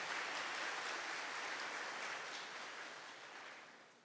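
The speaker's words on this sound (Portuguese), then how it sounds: "mas bem baixinho, aplauda o nosso Salvador, aplauda nosso Senhor Jesus Cristo" A church congregation during a worship service applauds softly, a faint, even wash of clapping that slowly tapers off, with no talk over it.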